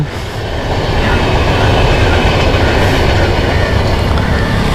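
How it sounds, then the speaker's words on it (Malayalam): A train rolls past near Nedumbassery airport, its loud steady rumble and rhythmic wheel clatter close by and sustained, with a faint squeal riding on top. "അതാ ട്രെയിൻ പോയി."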